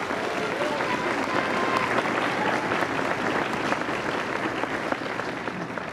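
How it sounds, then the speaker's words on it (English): Audience applause at a university awards ceremony, a steady, dense clapping from a large crowd in a hall, continuous for several seconds. "Give him a round of applause."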